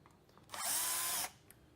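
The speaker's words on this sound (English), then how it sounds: "You need the screw gun, 20 Torx. Remove the screws." A screw gun with a 20 Torx bit backs a screw out of a marine panel in one short, whining burst of just under a second, close and clear, with quiet before and after.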